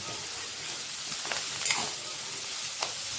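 Manchurian mixture stirred in a hot pan: continuous close frying sizzle with a few brief spoon scrapes and taps.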